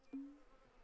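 A single short, low buzz of bees being placed on a farm in the video game Farmer's Dynasty, rising sharply then trailing off within a fraction of a second over quiet background.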